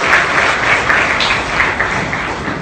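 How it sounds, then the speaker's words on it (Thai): An audience at an academic lecture on the Meiji-era and Siamese state formation gives a loud, dense, steady round of applause that continues throughout. "ขอเสียงปรบมือค่ะ"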